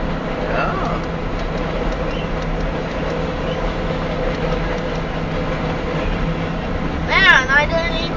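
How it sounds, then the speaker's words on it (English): A long Union Pacific grain train rolls past steadily in the snow, a continuous rumble of rail cars with people talking over it and a brief squeal near the end. "It's a grain train."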